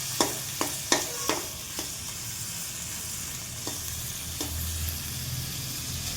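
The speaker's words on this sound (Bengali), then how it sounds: "লটে শুটকিটা দিয়ে দিচ্ছি, দিয়ে একটু এটার মধ্যে একটু ভাজতে দেবো।" Dried lote fish (shutki) frying in a pan, a steady soft sizzle with several sharp spatula clinks and scrapes near the start and a couple more later, close and moderately quiet, no voices.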